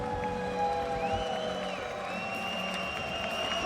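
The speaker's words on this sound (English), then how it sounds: "Hearing the crowd getting excited." A large esports arena crowd at a Dota tournament cheers and roars continuously in a steady wash, with a caster's voice over it.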